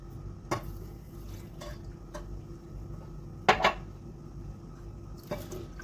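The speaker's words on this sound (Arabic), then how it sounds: "واقلبهم كويس، اقلبهم كويس قوي قوي" A spoon stirs a mixture of flour, starch, vanilla, sugar and milk in a pot, with scattered clinks and scrapes of metal against metal over a quiet background, one sharper double knock in the middle.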